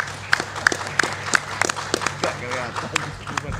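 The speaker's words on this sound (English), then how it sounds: "let's give applause to all speakers on site and online" Scattered hand claps from a conference audience applauding the on-site and online speakers at a rural and maritime digital transformation forum, sparse and uneven over a steady room hum, with a voice talking partway through.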